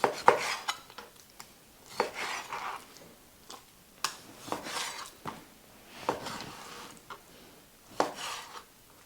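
A knife cubes pork pieces indoors on a cutting board, producing sharp, regular knocks roughly every second or two with softer scraping between them, close and clear, with no talk.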